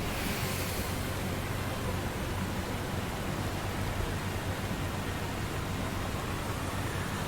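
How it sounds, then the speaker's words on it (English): Steady broadband rush of cooling water sweeping toward a drain in a tunnel in the horror game Death Mark, a continuous hiss with a low rumble underneath, even and unbroken throughout. "Then the cooling water suddenly starts sweeping in one direction, down into a drain."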